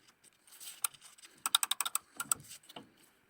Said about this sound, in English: check the click sound of switches shown in video